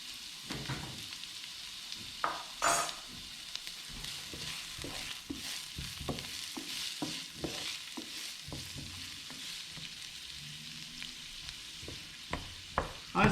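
Onions sizzle in a hot pan while a utensil stirs and scrapes them in repeated strokes, close and fairly quiet.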